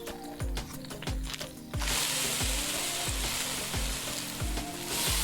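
Onions frying in a pan in the cooking game Venba, a loud bright sizzle that swells partway in, over a looping rhythmic music bed with regular low beats.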